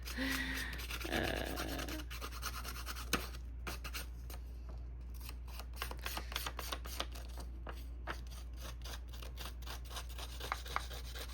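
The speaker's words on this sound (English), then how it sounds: "I was stuck on the idea for kind of roughing up the edges, so I just found some scissors that work okay" Scissor blades scrape and rasp along the edges of a paper file folder, a quiet run of repeated rubbing strokes and small scratchy ticks over a low steady hum, with no voices.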